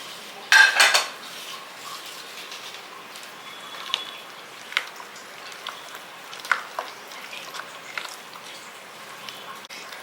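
Onion and salt are stirred in a pan with a metal utensil, giving scattered light clinks and scrapes close by, opening with a louder clatter before settling into quieter intermittent taps.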